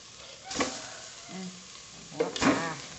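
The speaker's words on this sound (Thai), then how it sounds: "เดี๋ยวเขาเอาปลาที่เขาหั่นลงใส่เลยพี่น้อง" Sliced fish is added to a simmering Thai fish curry (om pla) and stirred in, giving soft sizzling with two louder scraping stirs of the spoon against the pot, close and moderately quiet.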